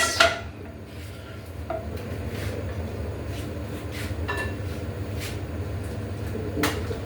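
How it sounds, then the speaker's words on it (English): A metal pan of melting butter for meatballs clanks and scrapes a few times on the stovetop, with sparse clinks and a soft rattle over a low, steady kitchen hum. "So now we have to basically melt the remaining butter in the old panaduri like this."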